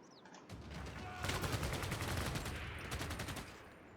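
Battle gunfire in the Civilization VI strategy game, rapid repeated volleys of shots crackling in a dense, steady burst for a few seconds, with a faint voice in the background.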